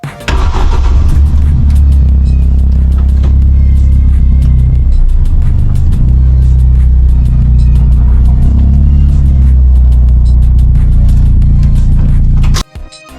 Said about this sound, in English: We managed to get it started, and now we've got a running and driving car